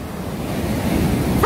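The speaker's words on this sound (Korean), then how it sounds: "뭔가 그 파도에 끌려갈 것 같은 느낌?" East Sea waves crash steadily onto the shore, a continuous loud surf roar swelling slightly toward the end, heard up close with some wind and no voices.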